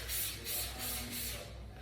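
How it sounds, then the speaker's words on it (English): F10 disinfectant sprayed over a work area in a veterinary practice, several quick hissing bursts from a spray bottle in close succession, fairly faint, with no speech. "So now I'm going to spray the area"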